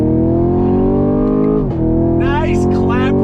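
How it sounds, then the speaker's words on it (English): A 2022 Chevy Camaro SS accelerating hard, its V8 exhaust a loud, close, rising drone with a brief dip mid-pull before climbing again, a voice speaking over it. "Nice clap from that exhaust."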